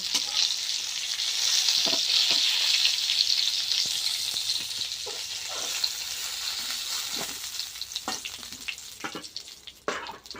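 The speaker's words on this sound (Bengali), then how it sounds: "ভেজে নেবো পটলগুলো" Pointed gourd sizzles steadily in hot oil, with occasional stirring scrapes and clinks from the pan, close and fairly loud.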